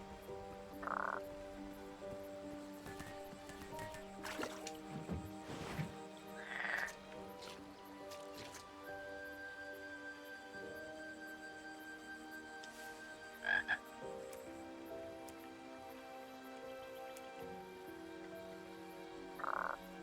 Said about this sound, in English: Frogs. There are 6 of them.